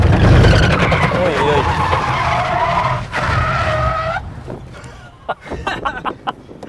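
A car drifting on a track in Argentina, its tyres skidding and squealing loudly beside a revving engine, close by, before the noise cuts off into scattered thumps.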